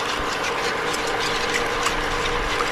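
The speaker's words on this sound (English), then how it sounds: "we're going to whisk it in good so it'll be nice and creamy" Milk is whisked into a pan to make a creamy sauce for macaroni and cheese, giving a steady, close, busy scraping and sloshing churn that carries on without a break.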